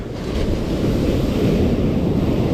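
Sea waves roll and break on the Karasu shore while fishing, a continuous loud wash of surf mixed with heavy wind buffeting the microphone.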